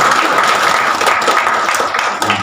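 Audience applause fills a hall during a public speech on youth and moderation, steady and fairly loud throughout with a few faint voices mixed in.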